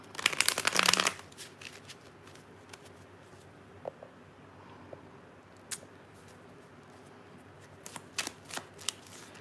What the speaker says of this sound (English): Do a fair shuffle.